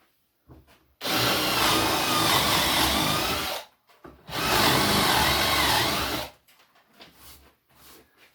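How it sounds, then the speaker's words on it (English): A power drill whines loudly into a wooden shaving horse leg spacer in two sustained bursts of about three and two seconds, separated by a brief pause. "now I got to drill this back leg spacer"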